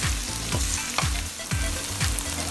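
Steady sizzling of chicken frying in a pan for tomato pasta, with periodic scraping from stirring about every half second, close and continuous.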